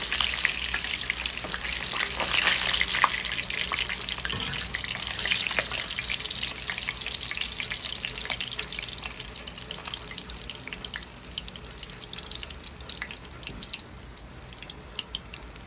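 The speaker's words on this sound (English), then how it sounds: "my fish here was fried up nicely, and we'll just go ahead and remove these from the oil" Fish frying in hot oil for a Jamaican Sunday dinner: steady dense sizzling and crackling throughout, close and moderately loud, with occasional small pops and clinks.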